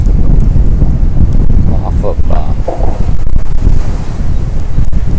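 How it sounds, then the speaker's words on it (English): Water rushes through the ocean inlet by the jetties at Sebastian Inlet State Park, Florida, as a steady broadband surge mixed with heavy wind buffeting on the microphone, with a person talking briefly over it. "That water's just rushing in"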